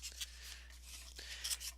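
Scissors snip through a paper tag for a wreath craft, giving a few faint, close, crisp cuts in quick bursts over a low background hum.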